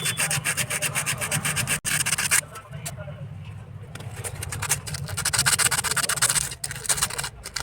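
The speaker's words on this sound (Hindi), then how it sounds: "छोटा सा सरस पत्ता के मदद से हम इसे रगड़ेंगे" Sandpaper rubbing over a rough sewing machine part, a steady close scratchy back-and-forth scraping that runs almost continuously, with a brief pause and slight dips in intensity.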